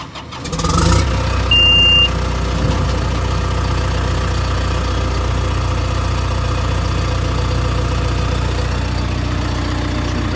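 A John Deere 450J crawler dozer's diesel engine cranks and fires within the first second, then settles into a loud, steady, rumbling idle that runs to the end with no talking.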